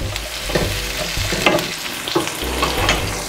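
Curry leaves sauté in hot oil for a barracuda fish curry, giving a steady close sizzle with a few sharper crackles and scraping stirs, over a low tonal hum.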